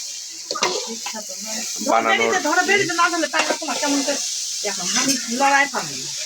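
Chicken sizzles in hot oil in a pan, a constant hiss beneath people talking close by.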